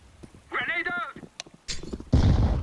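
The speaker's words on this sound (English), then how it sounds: "Grenade out!" A Counter-Strike grenade blast bursts out loud near the end, a broadband boom that follows team callouts and other in-game effects, with people talking over the round.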